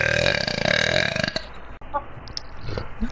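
A loud, close burp rolls out over a second and a half, followed by a few softer mouth noises and faint background sounds in a gaming session.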